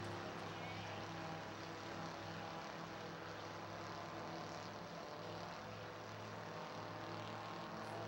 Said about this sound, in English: opens up a half a straightaway margin in this 5-lap heat race.